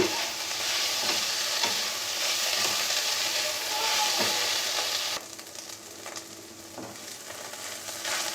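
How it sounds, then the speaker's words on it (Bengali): Fried cauliflower filling for singara is stirred in a pan with chopped coriander: a continuous close sizzle with scraping stirs that drops noticeably quieter partway through. "এবার এখানে দিয়ে দেবো ধনে পাতা কুচি দিয়ে আবার আরেকটু নেড়ে চেড়ে নেব"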